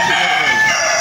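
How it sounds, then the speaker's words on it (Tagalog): Loud, close rooster crowing in one sustained call, with chickens in the background on a rural Bicol property. "Ang dami manok."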